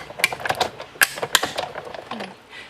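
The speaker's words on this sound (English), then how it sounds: "And then we can go ahead and run it through our die cut machine." A paper die cut machine clicks and ratchets as a card and die are cranked through, with a cluster of close, sharp mechanical clacks and creaks.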